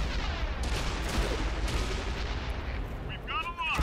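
A tank cannon firing in the World of Tanks video game, a heavy sustained booming rumble filling the whole clip at close range, loud and dense with low-end roar.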